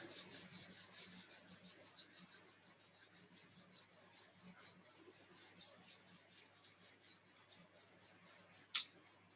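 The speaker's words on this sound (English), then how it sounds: "Rub those hands together." Two palms rub briskly together during a qigong-style warm-up, a quiet, close, steady swishing of even back-and-forth strokes several times per second, ending with a single sharp click.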